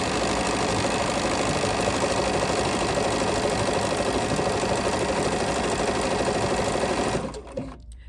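A Bernina sewing machine runs steadily while stitching decorative pattern 413, a small heart motif, its rapid needle chatter loud and continuous for about seven seconds before stopping abruptly.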